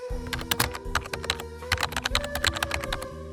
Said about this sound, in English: So you gotta type exactly the same as I am.